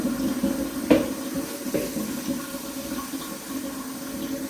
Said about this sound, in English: switch the tap, let all the hot water run out